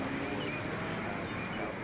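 Amazon cargo planes run their jet engines at Nashville International Airport, a steady broadband roar with a faint whine that holds evenly throughout.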